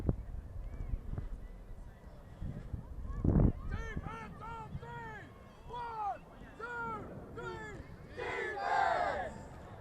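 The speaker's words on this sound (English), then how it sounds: "Very traditional chant from Dirty Bird, but a loud one." Ultimate frisbee team shouting a loud chant at a Chalice City 2020 tournament, a crowd of voices yelling together outdoors in rising, rhythmic calls, with a sharp thump early and the cries building toward the end.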